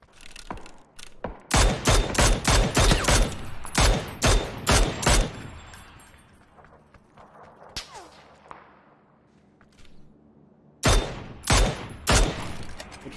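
Bursts of gunfire in a ranked online shooter game, rapid loud shots in clusters early on, a lull with scattered single cracks, then another fierce volley near the end.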